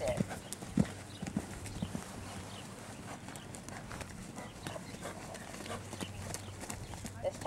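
Horse hooves on the ground during a ghost bending-line jumping exercise, a few clip-clops near the start and end over a faint, distant outdoor background.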